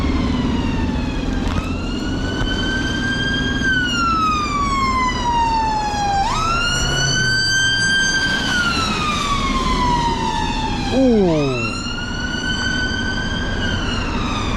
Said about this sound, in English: That's the third ambulance I've seen.